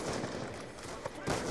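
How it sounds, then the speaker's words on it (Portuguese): Gunfire in a multiplayer video game, rapid shots crackling through a dense, busy mix of game sound, with a louder burst near the end. "Que tiro foi esse que eu dei agora"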